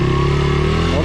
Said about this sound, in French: Il y a l'homme à la moto, c'est beau.